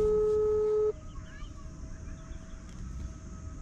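A loud electronic phone tone sounds for just under a second as a number is dialled outdoors, then cuts off to quiet ambient background.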